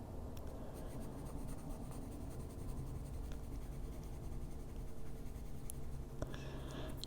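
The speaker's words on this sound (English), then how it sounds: "we're going to just trace over with the darkest color we did the trim with" Colored pencil tracing swirls in a coloring book, a soft, continuous scratchy scribbling heard close and quiet, with short strokes running throughout.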